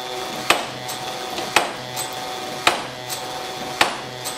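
Sharp, regular knocks of a wooden Leonardo da Vinci-style cam hammer, driven by an electric drill, striking wood about once a second, with a whirring motor hum running underneath.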